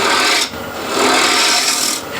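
A spindle gouge shaves a small wooden bowl spinning on a lathe, giving a steady close rasping scrape that swells and dips as the tool moves.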